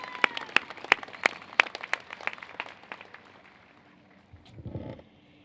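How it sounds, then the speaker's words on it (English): Sharp, distinct claps from a student convocation audience applauding a dean, loud at first, then thinning into scattered claps that fade out, followed by a brief low rumble. "Can you join me just one more time to a big round of applause to Dean Searcy for those inspirational words."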